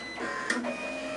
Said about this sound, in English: And as you see, it printed an ID card